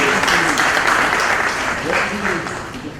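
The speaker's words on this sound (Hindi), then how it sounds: "आप सब करतल ध्वनि से इस क्षण का आप गौरव तालियों के माध्यम से करेंगे" Audience at a ceremony in a Raj Bhavan hall applauding, steady sustained clapping with a voice speaking faintly beneath.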